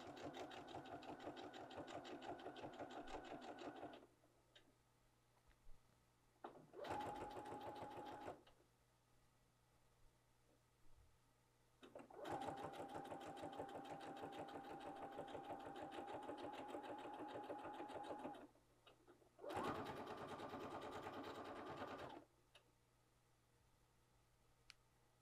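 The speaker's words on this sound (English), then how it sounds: "foot down, and continue to sew." A sewing machine stitches a garment lining in several rapid, even-rhythm runs of a few seconds each, near and clear, separated by quiet pauses with faint clicks as the fabric is pivoted.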